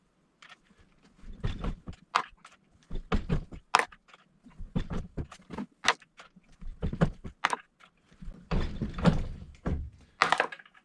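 Brass cartridge cases lubed with Hornady One Shot being run through a resizing die on a reloading press, a series of close clunks and metallic thunks in an irregular repeating rhythm with no talking.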